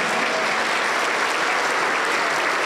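Church congregation clapping loudly and continuously, a dense, unbroken wall of applause with no pauses.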